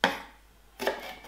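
A knife slices through leeks on a cutting board in two crisp cuts about a second apart, each ending in a short rustling tail. The cuts are close and clear.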